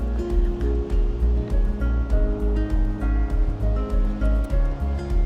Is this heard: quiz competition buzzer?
no